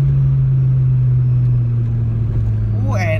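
A 1996 Toyota Corolla AE110's steady, low engine drone fills the cabin while driving over a rough, damaged road, with a constant rumble and a faint warbling tone near the end.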